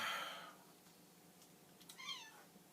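A house cat meows twice, faint and thin, one cry at the start and another rising, wavering meow near the end, in an otherwise quiet room.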